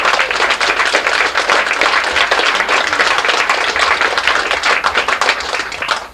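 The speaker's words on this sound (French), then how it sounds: "On peut tous les applaudir." Dense, sustained applause from a theatre audience, loud and steady throughout with many hands clapping at once and no voices standing out.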